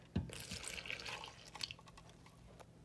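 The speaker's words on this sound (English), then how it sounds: "mix together all the dry ingredients and then add the water" Water poured into dry bread dough ingredients at a camp kitchen, a brief close splash and trickle lasting a couple of seconds with light dripping, no talk.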